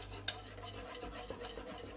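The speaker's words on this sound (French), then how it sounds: "Et ensuite je vais mélanger tout doucement." A utensil quietly stirs milk in a saucepan for hot chocolate, soft swishing and scraping with one light metallic clink near the start.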